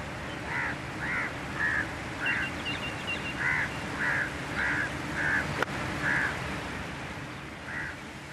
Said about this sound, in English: Those are just crows and ravens.